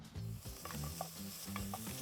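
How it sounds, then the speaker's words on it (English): Bacon sizzling in a pot over an open coal fire at about 500 degrees, a steady close crackling hiss with light scraping stirs and clinks of a utensil, no talking. "Check that out, it's already sizzling."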